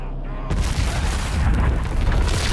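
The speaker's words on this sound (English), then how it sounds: "Someone detonates an explosive, killing Guy and heavily injuring Michael" An explosive detonating in a film scene: a sudden loud boom after a brief quiet moment, then a dense, rumbling roar with crackling debris that continues to the end.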